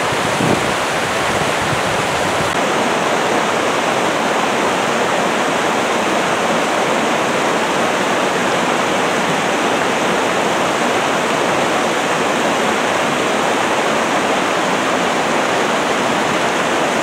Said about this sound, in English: Yeah, there's a waterfall